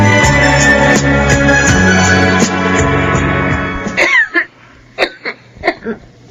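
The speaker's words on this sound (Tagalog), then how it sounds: "Kanina ka pa ubo ng ubo ah." A woman coughs and clears her throat in a few sharp, close bursts after a stretch of music fades out.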